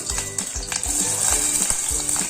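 Oil heating with curry leaves in a pan for a home-style Konkani clam curry, a bright, steady sizzle with a few soft stirring knocks, close and continuous.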